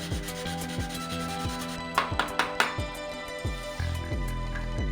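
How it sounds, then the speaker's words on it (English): Close sanding strokes rasp back and forth in quick repeated passes on a spaceship model section, a few sharper scrapes in the middle, with no talking. "A little bit more sanding on the 4 section."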